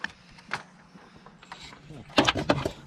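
A hand ratchet clicks and turns while removing the bolts that hold the thermostat on a Mazda 3 with a P0126 code, with scattered faint clicks followed by a louder, busier run of ratcheting near the end.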